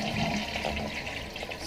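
Toilet flush after a newly installed flapper, a steady rushing of water through the bowl and tank, loud and close, continuing throughout without any talk.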